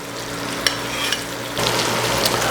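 Steaks frying in butter with rosemary hiss and crackle loudly, with a few sharp pops, and the sizzle swells noticeably partway through; no one speaks.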